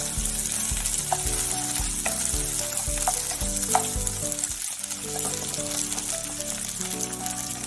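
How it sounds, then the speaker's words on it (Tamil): Two large onions, sliced lengthwise, fry in a pan for a mutton keema kurma, giving a steady close sizzle with soft stirring scrapes and light rhythmic knocks throughout. "வெங்காயம் நீல வாக்கில் கட் பண்ணி வச்சுக்கிறது போடுறோம்."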